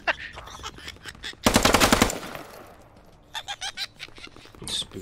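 Machine gun fire in the video game Squad: one loud, rapid burst of about half a second, with scattered softer shots and clicks before and after.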